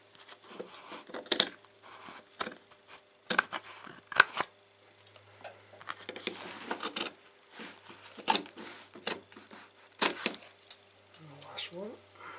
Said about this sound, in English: cut up to the corner of the light socket, and what you want to do is just cut over slightly